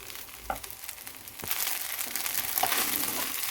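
String hopper kottu is sautéed in a pan. A few soft stirring knocks come first, then a broad, steady frying sizzle swells and holds close by, with no voices.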